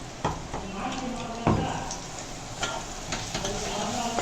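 Thick lentil paste is stirred and roasted in a pan for paruppu usili, giving soft scraping and stirring clatter with a few sharper knocks over a steady low sizzle, close and moderately loud.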